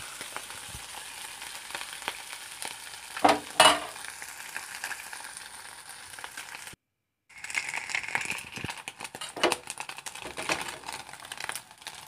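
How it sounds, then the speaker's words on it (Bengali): Prawns fry in a pan with a continuous close sizzle while a spoon stirs them, giving a few sharp scraping clatters, then a brief silent gap before the sizzling and stirring resume. "ভালো করে একটা চামচ দিয়ে ভালো করে নেড়ে নিচ্ছি।"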